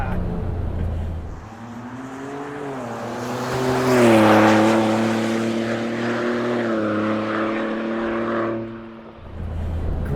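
A Ford Bronco with a 2.7L V6 EcoBoost engine and MRT axle-back exhaust drones and rises in pitch as it accelerates through the gears of its 10-speed automatic, heard from inside the cabin and loud and sustained, with a brief lull as it shifts.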